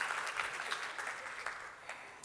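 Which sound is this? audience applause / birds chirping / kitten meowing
audience applause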